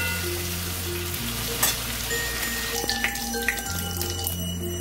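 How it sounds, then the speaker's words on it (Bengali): Pieces of chicken frying in oil for a white shahi chicken korma, with a loud, continuous close sizzle and crackle, a few brief scraping stirs, and no voices. "এই চিকেনগুলো ফ্রাই হয়ে গেছে"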